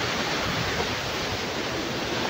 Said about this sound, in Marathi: चढता चढता खतरनाक धबधबा लागलाय फुल जॉस मध्ये.